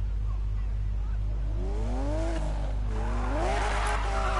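A Lamborghini Murcielago in Need for Speed Payback, engine rising in pitch as it revs and accelerates, with a tire squeal layered over a steady low drone, growing louder toward the end.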